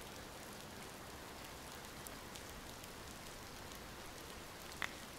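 Soft, steady rain hisses evenly throughout in the virtual reality game Golf Pool VR, faint and continuous with one small sharp tick near the end.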